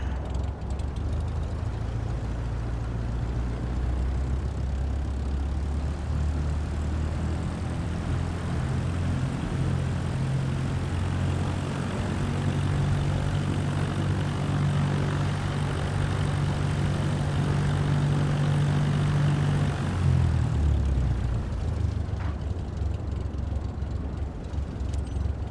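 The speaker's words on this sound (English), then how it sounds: "Clear for takeoff, runway 16 right Cessna 891." Cessna light airplane engine during its takeoff roll, a loud steady propeller drone with a low humming tone that builds, holds, then drops away near the end, with no talk.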